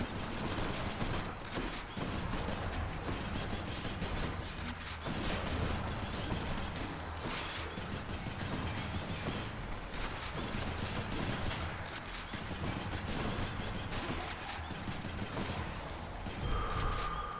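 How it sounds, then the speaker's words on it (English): Gunfire in the Hades video game, with dense rapid shots in continuous bursts over an action soundtrack, loud and sustained throughout. "I'm fucking counting my clip while I'm shooting"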